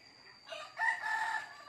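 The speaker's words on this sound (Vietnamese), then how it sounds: "Đàn gà lông đỏ tía màu, ghen ghen đàn vịt trắng phao ước gì." A farm chicken among a flock of red-feathered birds gives a short, close crow-like call, a sharp rising squawk lasting about a second above quiet background.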